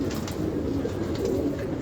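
Pigeons in a loft coo in a low, steady murmur that runs continuously at close range.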